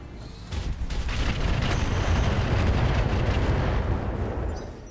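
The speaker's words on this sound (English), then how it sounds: "I think we go ahead and fire our Rocket 20 here." Rocket 20 launcher firing in the mech game RogueTech, a dense, sustained rumbling salvo of blasts that swells after a brief lead-in and holds loud and steady for several seconds before easing off.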